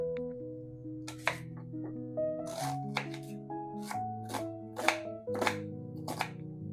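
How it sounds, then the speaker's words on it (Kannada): A knife chopping an onion on a board while preparing a country chicken curry, a series of sharp separate cuts at an uneven rhythm over steady background music. "ಒಂದು ಈರುಳ್ಳಿ ಕಟ್ ಮಾಡ್ಕೊಳ್ಳೋಣ"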